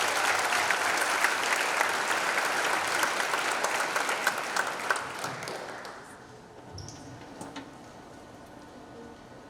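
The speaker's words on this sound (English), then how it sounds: "one last round of applause to thank these judges for donating their time" A school pageant audience applauds the judges, loud and dense at first, then thinning to a few scattered claps as it fades out.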